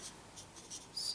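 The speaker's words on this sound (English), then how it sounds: "So here I'll just write it." Pen writing on paper, a few soft close scratching strokes in quick succession, faint and brief with no talking.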